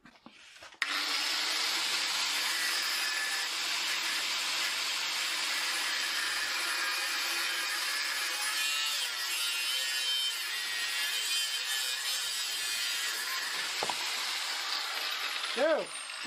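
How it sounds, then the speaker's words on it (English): An angle grinder cutting a generator off an old Union bicycle: a steady, loud, high-pitched grinding whine runs unbroken for about fifteen seconds, then spins down with a falling tone at the end. "Let's fire up the angle grinder."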